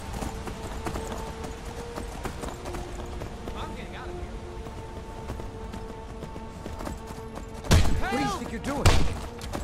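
Steady hoof clip-clop of a horse in Skyrim under game background noise, with a couple of louder thuds and a brief whinny-like cry near the end.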